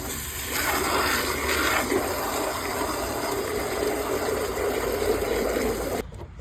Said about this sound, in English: there's going to be some gunk in here, so I'm going to go ahead and spray that out.